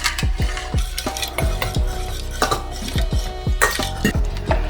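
Millet flour koozh batter, made from kambu, solam and ragi flour, is stirred in a pot with repeated scraping strokes against the bottom. The strokes come in a steady rhythm at close range, with light clinks of the utensil and no talking.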